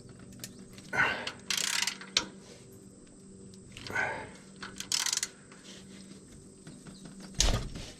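A wrench works loose the exhaust manifold bolts on the turbocharger of a Case 170B excavator's Deutz diesel, in a few brief, close metallic ratcheting bursts separated by quiet pauses.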